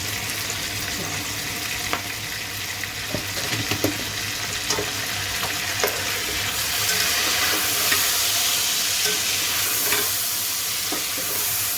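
Steady low sizzling of food cooking in a pan, with occasional soft pops and stirring clicks, close and moderately quiet.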